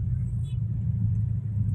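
A car drives through flooded streets in Palembang during heavy rain; a steady, close, low engine rumble dominates, with a faint high hiss above it.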